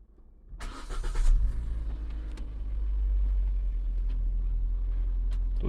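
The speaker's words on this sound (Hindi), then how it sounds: "तो हम पहले गाड़ी को स्टार्ट करेंगे।" A car engine cranks and catches, then settles into a steady, close low idle rumble that continues to the end, with no talk.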